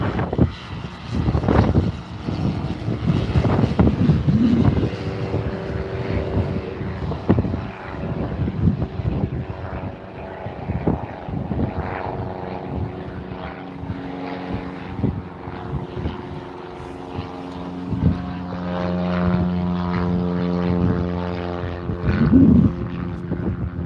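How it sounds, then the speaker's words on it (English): A propeller airplane drones at Barton Aerodrome airfield, a steady engine hum with wind buffeting and occasional knocks, growing slightly stronger toward the end. "we'll just wait for this plane here"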